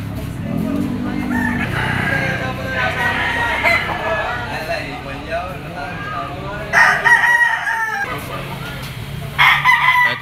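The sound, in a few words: bullstag gamefowl rooster crowing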